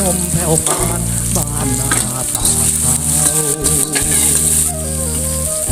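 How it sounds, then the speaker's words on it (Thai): Garlic, fingerroot and torn kaffir lime leaves stir-fried in a hot pan for a Thai pad cha with fish: loud, steady sizzling with continuous scraping of the spatula, close and without speech. "ก็เริ่มผัดกันเลยครับ"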